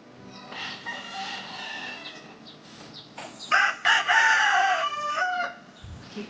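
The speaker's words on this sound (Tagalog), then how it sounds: "Ang manok?" A rooster crowing outdoors in Jagna, Bohol Province, Philippines: one loud, drawn-out crow rising and falling over a few seconds, with softer clucking before it and faint background sounds around.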